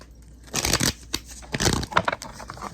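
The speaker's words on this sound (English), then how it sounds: "Let me get a good shuffle" Tarot cards being shuffled, with a few quick bursts of riffling and slapping close by, separated by short pauses.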